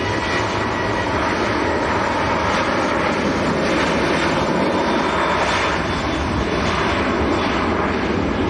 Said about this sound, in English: I see we've got Garnaccio's little Learjet coming out as well